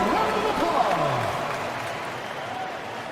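Steady crowd applause from a large basketball arena audience in the video game NBA 2K25, a dense wash of clapping and cheering that holds fairly level throughout, with faint voices mixed in.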